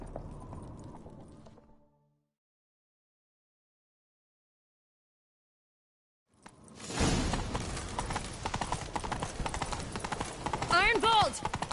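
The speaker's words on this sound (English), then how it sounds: "Grab a horse, we'll chase him down." A horse gallops in pursuit of Arnvald in The Witcher 3: Wild Hunt. Short hoof sounds come first, then a pause of silence, then loud, rapid, dense hoofbeats mixed with other game sounds.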